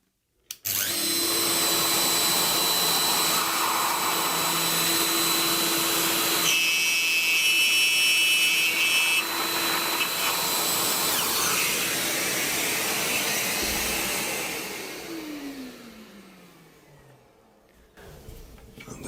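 A router cuts a bevel joint in wood with a loose tenon jig, whining loudly and steadily for about fourteen seconds before winding down and spinning to a stop.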